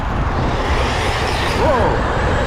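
A Traxxas XRT RC car spins its wheel on loose gravel, a gritty, continuous broadband rush with a brief rising and falling motor whine near the end, close by and fairly loud.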